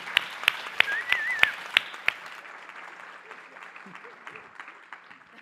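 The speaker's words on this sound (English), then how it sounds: "Let's give another round of applause to Katie Martin, Speaker Craig Coughlin," Scattered audience applause at a food security conference, a few sharp claps over the first two seconds then thinning into faint patter under background murmur.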